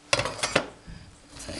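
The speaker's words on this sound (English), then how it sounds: "the center plates come out fairly easy." Thin metal plates sliding and clinking as they are pulled from an HHO magnet cell, a few close, bright scraping clanks in the first half, then quieter rustling handling.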